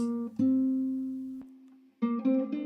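A clean, dry plucked nylon-string guitar with no added effects: one long sustained note, then a quick run of notes, close and fairly quiet.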